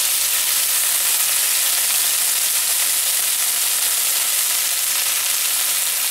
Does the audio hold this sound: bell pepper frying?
yes